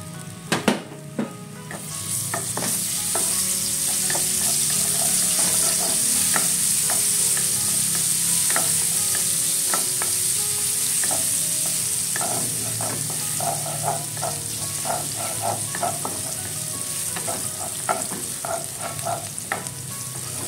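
Garlic sautéing in a small amount of hot oil, a steady close sizzle with frequent stirring scrapes and clicks of a utensil against the pan, no talking.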